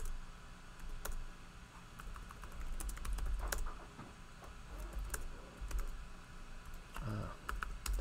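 Rapid keyboard typing at a computer while entering OpenFOAM commands for a pipe-flow simulation, a dense run of quick clicks with a few louder key strikes over a steady room hum, close and moderately quiet.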